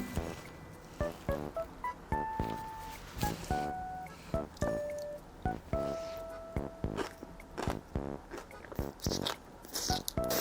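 Crisp bites and steady chewing of cashew cream pasta topped with shrimp and celery, a close run of sharp crunchy clicks and mouth sounds repeating throughout with no talking.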